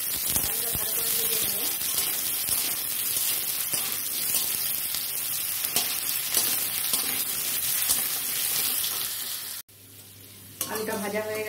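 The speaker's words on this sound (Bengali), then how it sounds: "প্রথমে আমি আলুটা ভেজে নিচ্ছি।" Potatoes frying in hot oil in a wok, a loud, steady close-up sizzle that runs almost the whole time, drops out briefly near the end, then resumes.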